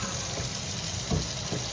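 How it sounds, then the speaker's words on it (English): Tap water running steadily into a bowl in a home kitchen, filling it with water and a little vinegar for washing produce; a continuous close splashing wash with a few louder surges, no talk. "fill this bowl up with just water and a little bit of vinegar"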